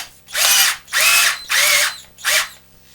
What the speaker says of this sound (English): Check that up in the drill.